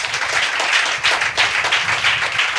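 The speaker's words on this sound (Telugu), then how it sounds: "గట్టిగా చప్పట్లు కొట్టండి." A church congregation at a Friday worship service in Vijayawada claps together in steady, dense applause, loud and continuous with no speech over it.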